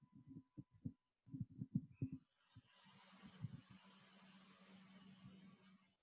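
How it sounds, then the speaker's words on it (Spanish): A faint, steady hum from a home computer's cooling fan, preceded by a few soft thumping knocks as a microphone is handled, then a continuous low whir holding alone to the end. "No sé si llegan a escuchar el ventilador de mi computadora"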